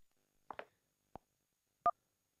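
A phone call connecting on a live call-in show, a few short electronic tones and clicks spaced apart in near silence, ending with a brief two-tone beep.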